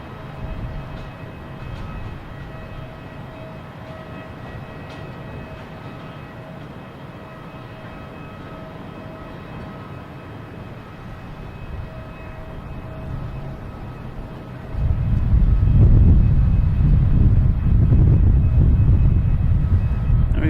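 A Delta Airbus A330-900 arriving at Boston Logan from Paris, a low distant jet rumble building gradually before a sudden loud deep roar swells in near the end.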